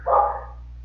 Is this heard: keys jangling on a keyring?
no